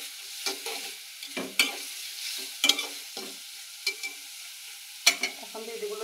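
Tomatoes mixed with spices get stirred in a frying pan: repeated scraping strokes and clinks of a utensil over a gentle sizzle, heard close with no talking.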